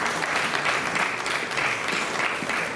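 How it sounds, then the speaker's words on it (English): Dinner event audience giving a round of applause, dense steady clapping from a room full of people, moderately loud with no talk over it. "So let's give Sharia and FUDTA another round of applause."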